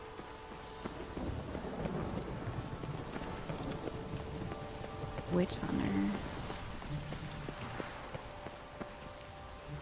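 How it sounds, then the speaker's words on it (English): Rain patters steadily during a thunderstorm in The Witcher 3: Wild Hunt while a loud thunder crack booms midway, with a player speaking over the game sounds. "Nope, still raining, still thundering, still dark."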